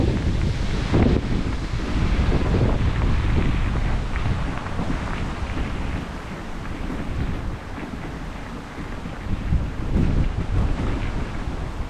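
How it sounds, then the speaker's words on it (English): A breeze blows outdoors along an old railway subdivision, steady loud wind buffeting the microphone with gusty surges and rumble, no talking. "Oh, that breeze is nice."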